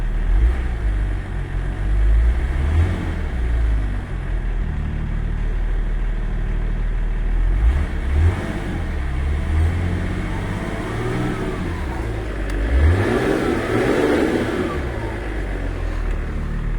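A car engine runs steadily near at hand with a low rumble, rising in a few brief revs around the middle and again near the end, with no talk over it.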